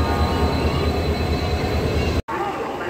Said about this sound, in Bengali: ঠিক 7:30টার সময় 21 নম্বর প্ল্যাটফর্ম থেকে হাওড়া মুম্বাই এক্সপ্রেস, হাওড়া মুম্বাই মেল বেরিয়ে যাচ্ছে